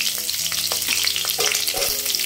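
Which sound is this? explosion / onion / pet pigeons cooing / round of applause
onion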